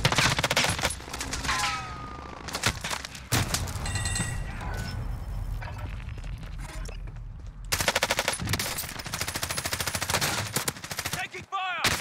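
Rapid automatic gunfire and single shots in Call of Duty, Verdansk, dense bursts of machine-gun fire near and loud, with in-game explosions and sound effects, continuing almost throughout.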